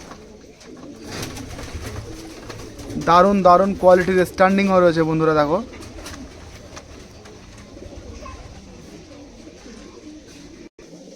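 Giribaz pigeons in a loft give a close, clear bout of cooing lasting a couple of seconds, while someone talks over the soft background.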